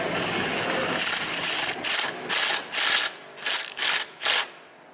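A ratchet wrench clicks rapidly as the final bolt is tightened on a Nissan Versa front strut, a long continuous run of clicks followed by five short, evenly spaced bursts, loud and close.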